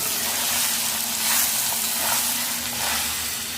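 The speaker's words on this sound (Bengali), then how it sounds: "অল্প অল্প করে চাল দিচ্ছে ছেলে আর আমি নেড়ে দিচ্ছি" Cooked rice being stirred into fried cumin in a hot pan, a broad steady hiss of frying with soft swells as the spoon moves, close and without talk.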